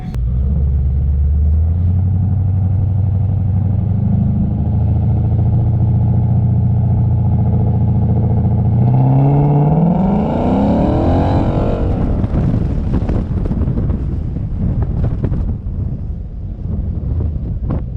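A 2015 Ford Mustang with a 6R80 automatic holds a loud, steady idle-like drone, then its engine revs rise sharply and surge as the car launches, continuing as a rough roaring rumble with wind buffeting, no talking.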